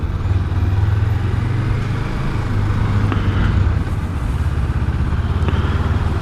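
A Suzuki GSX250R motorcycle is ridden on an evening road, its engine droning steadily with a low rumble and wind noise throughout, rising and falling slightly in pitch.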